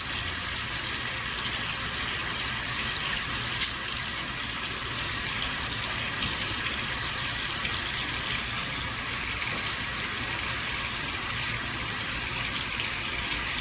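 Water runs steadily from a tap during handwashing, a continuous broadband rush at even loudness throughout, heard alone with no talk.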